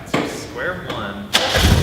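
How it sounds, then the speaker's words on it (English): Turbocharged Mazda Miata engine cranking over as it tries to start, with bursts of starter whir and engine noise under a brief voice, rising into a louder rumble near the end. "so now we're going to try and start the car, see what it does"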